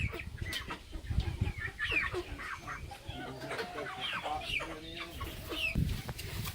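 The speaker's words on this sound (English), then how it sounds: "Those beautiful birds in there are my egg layers." Egg-laying hens cluck and chatter steadily throughout, several birds close by with overlapping calls over a busy barnyard background.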